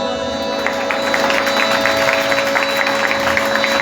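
A live worship crowd in Islamabad claps steadily and loudly, a dense, continuous wash of applause with a faint hum beneath, sustained throughout without speech.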